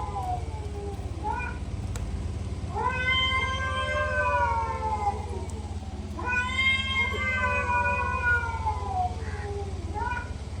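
A person in a village imitates a cat's meow to call a pet, giving several drawn-out, wavering mews in two main bursts with shorter calls between them, over a low steady background hum.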